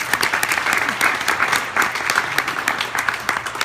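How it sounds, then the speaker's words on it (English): An audience at a reception claps enthusiastically, many distinct hand strikes rising and falling in a lively, fairly close round of applause. "Let's get a clap for that."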